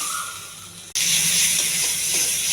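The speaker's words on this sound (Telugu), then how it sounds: "ఇది కూడా దోరగా వేగించాలి." Ingredients for a tomato-tamarind chutney fry in a hot pan. A soft hiss suddenly jumps to a loud, steady sizzle that keeps going.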